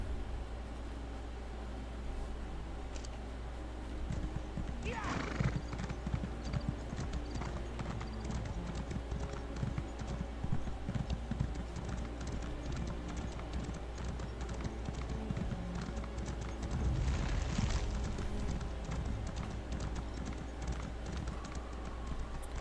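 Steady rhythmic clip-clop of horse hooves at a trot in the video game Elder Scrolls Online, continuous and fairly close, with a brief whoosh partway through and no talking.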